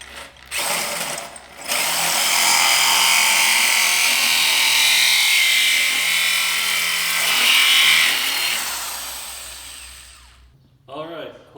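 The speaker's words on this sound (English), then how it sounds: "We're using a 1 3/4 inch hole saw." A 1 3/4 inch hole saw grinds steadily through the wall of a propane-fired foundry furnace, a loud continuous cutting roar lasting most of the clip, with short pauses at the start and a brief voice near the end.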